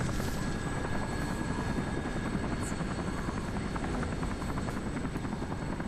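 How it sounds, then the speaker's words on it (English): Steady, loud rotor and engine drone of a helicopter in the video game Urban Chaos: Riot Response, a continuous close roar without any voices. "It's a helicopter sequence."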